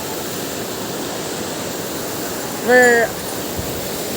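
Fast-flowing water rushes at Datanla Waterfall below a bridge, a steady full roar throughout, with a short spoken word cutting in near the end.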